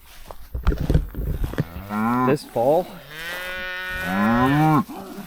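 Cattle moo on a farm, several long, loud, drawn-out calls from cows nearby, following a few clattering sounds and a brief spoken phrase at the start.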